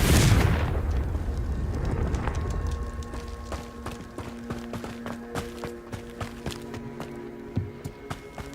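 A Confringo blasting spell goes off in Hogwarts Legacy as a loud explosive burst with a low boom. A sequence of sharp magical cracks, clanks and ringing tones trails after it.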